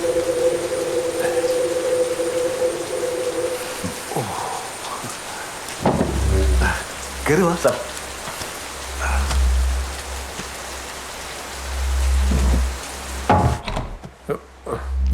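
Heavy rain pours steadily through a tense Malayalam film scene, a constant hiss broken by several deep thuds and knocks, with a man's brief spoken line partway through.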